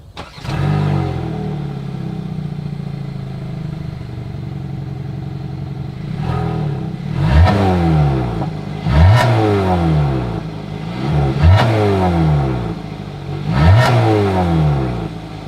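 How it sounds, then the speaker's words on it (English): A 2022 Hyundai Tucson idles through its single exhaust outlet, then takes a series of about five short revs, each rising sharply and dropping back, heard close with no talking. "As always, here is that exhaust clip."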